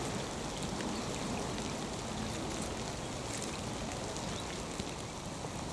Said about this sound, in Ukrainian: І ця злива мене не пугає